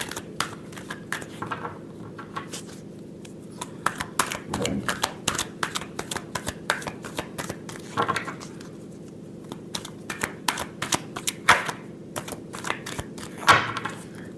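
Tarot cards being shuffled by hand in a long run of crisp, rapid riffles and taps, close and fairly quiet, with a voice speaking intermittently over them.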